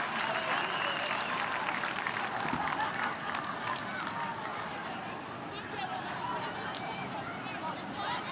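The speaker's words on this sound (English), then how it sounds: "Lane Morgan coming from the field, and she gets a big cheer being a local girl from Newcastle, the Hunter region." Crowd cheering and applause at a women's rugby match between the Wallaroos and the Black Ferns, a broad, steady roar filling the stands throughout as a local player from Newcastle leaves the field.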